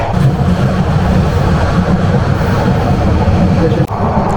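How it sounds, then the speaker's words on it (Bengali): From aboard the Turna Express, a steady loud rumble of rolling carriages fills the crossing with the nonstop Cox's Bazar Express train, broken by a short dip near the end. "চতুর্থ ননস্টপ কক্সবাজার এক্সপ্রেস ট্রেনের সাথে আমাদের ক্রসিং সম্পূর্ণ হলো।"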